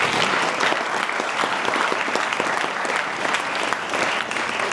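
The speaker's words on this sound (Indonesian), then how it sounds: "Tepuk tangan dulu dong." An audience at a religious talk at an Islamic boarding school claps loudly, a thick sustained wash of many hands clapping that stays even for several seconds.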